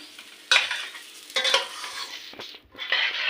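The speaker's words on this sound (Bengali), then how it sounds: "পেঁয়াজ দু মিনিট ভাজি ভাজি করে একটু নাড়াচাড়া দিয়ে তারপরে দিয়ে দেবো জল" Onions frying in a pan on a low gas flame, stirred in a few bursts of loud scraping and sizzle with quieter sizzling between, close by and with no talking.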